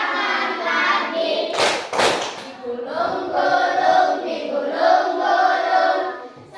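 Children in a school classroom sing a song and clap their hands twice in quick succession partway through, two sharp, close claps over steady group singing.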